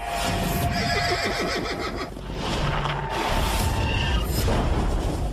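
A horse neighs loudly and close by, a long descending whinny early on followed by further snorts and whinnies, over a steady rushing background with no talk.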